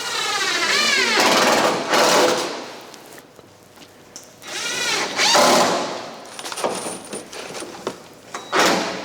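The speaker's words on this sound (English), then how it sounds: "Todd, this is your weapon. The ceremonial screwdriver." A screwdriver drives a screw into the whiskey plank of a catboat during the plank ceremony, whirring in several close, loud runs with short pauses between them.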